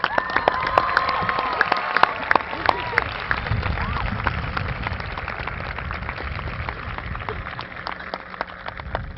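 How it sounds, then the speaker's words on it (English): A crowd applauds the Lunenburg High School class of 2018 at their graduation ceremony, a steady wash of clapping that runs the whole stretch with scattered sharper claps and some crowd noise mixed in. "can we get a round of applause for the class of 2018 Lunenburg High School graduates?"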